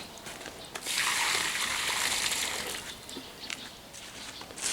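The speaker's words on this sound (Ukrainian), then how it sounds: "Це ми воду набирали." Water gushes and splashes into a bucket for several seconds, swelling after the first second and then easing off, quiet and close with no talking.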